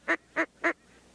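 Three evenly spaced, nasal quacks blown on a duck call in imitation of a duck, each short and clear, followed by quiet.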